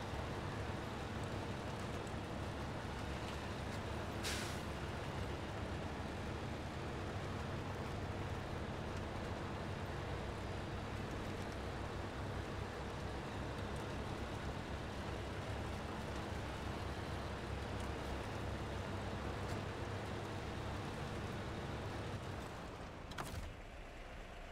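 A truck engine idles steadily in the SnowRunner video game while hauling cargo through an Alaskan valley, a continuous low rumble with a couple of brief sharp transients.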